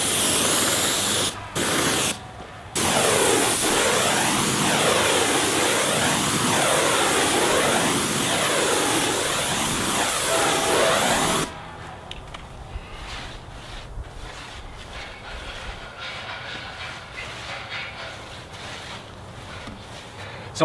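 A sprayer applies wood stain to a wood fence outdoors with a loud, steady hiss that breaks off briefly twice near the start. It then stops, leaving quieter background with faint rustling.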